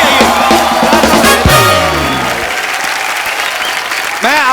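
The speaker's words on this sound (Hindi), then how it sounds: "सनी बाजी और बॉबी बाजी के लिए जोरदार तालियां हैं।" Loud applause from a television comedy show studio audience greeting actors Sunny and Bobby Deol, a dense wash of clapping that stays strong through the whole stretch, with voices and music mixed underneath.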